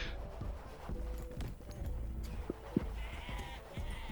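Sheep bleating in the castle-on-wheels roguelite game Wanderburg, a couple of short bleats amid clattering, hoof-like game effects and background music.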